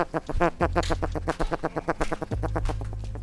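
A loud bird gives repeated harsh, quacking calls in a fast rhythmic series, close and prominent, with a low steady hum running underneath.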